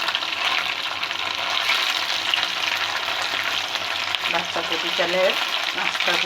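Marinated chicken pieces for a roast fry in hot oil with a steady, close bubbling sizzle, a few soft bursts of spattering toward the end, and no talking.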